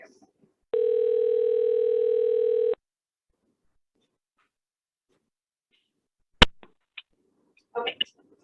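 A steady telephone line tone sounds for about two seconds during a demonstration of an emergency call system, followed by a sharp click and a few faint handling noises in a quiet room.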